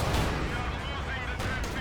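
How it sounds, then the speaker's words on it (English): A Panzerfaust anti-tank weapon fires in the Company of Heroes 2 strategy game, a sharp burst late in a short stretch of dense, booming battle noise. "Panzerfaust firing."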